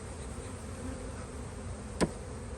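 Honeybees packed twenty frames deep in a double-deep spring hive box keep up a faint, continuous buzzing drone, with one brief sharp noise near the end.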